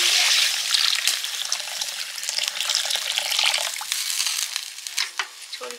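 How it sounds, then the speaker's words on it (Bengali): Water poured from a vessel into fried spice paste in a pan for a fish curry, giving a steady splashing, gurgling rush with light sizzle that tapers off toward the end. "এবার একটু জল দিয়ে দেবো"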